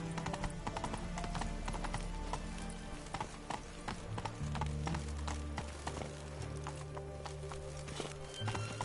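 A horse's hooves clip-clop in a steady, quick rhythm in The Witcher 3: Wild Hunt, the footfalls loud and close over a low ambient game backdrop with no talk.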